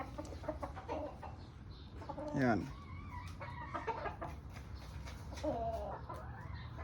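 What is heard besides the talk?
stag chicken clucking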